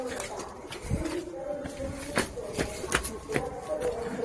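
A pigeon coos in low throaty bursts close by, mixed with scuffling and tapping noises on a rooftop.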